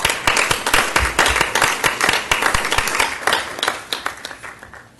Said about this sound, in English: Let's give another round of applause for all of these great winners tonight.